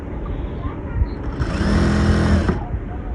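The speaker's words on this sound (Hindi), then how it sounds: "मतलब पहले जो स्टिच चलाया है उसके ऊपर ही स्टिच चला दो दूसरा" A sewing machine runs a second line of stitching over the first on a blouse, a close, steady mechanical whir rising for about a second over a low room hum.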